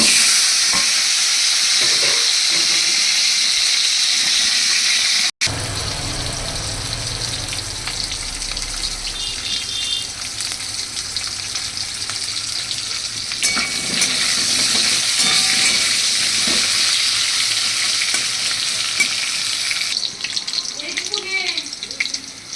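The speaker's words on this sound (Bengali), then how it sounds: "এবার দেখো আমার আলুগুলি ভাজা হয়ে গেছে" Steady, loud sizzling of potatoes frying in hot oil with a dried chili and bay leaf runs throughout, with occasional stirring scrapes and clatters.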